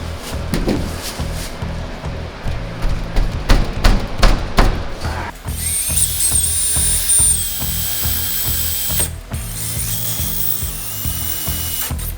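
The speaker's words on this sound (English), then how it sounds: "Drill some holes." A power drill whirs loudly, first in short ratcheting bursts, then in a long sustained high-pitched run as it bores pilot holes through a trailer roof.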